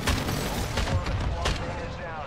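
Gunfire rings out during a Call of Duty DMZ match: several sharp, loud shots in quick succession, mixed with voices talking over the action.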